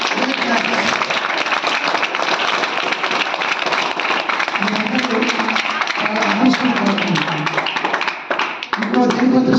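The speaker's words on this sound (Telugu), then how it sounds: "మీకు క్లాప్స్ కొట్టండి ఒకసారి" Audience in a motivational class clapping on request, a dense sustained spread of many hands throughout, loud and close, with voices murmuring underneath.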